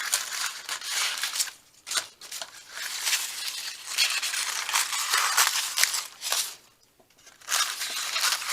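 Scissors snip and slice through paper for a handmade journal, a close, steady run of crisp cutting and rustling strokes with a couple of brief pauses.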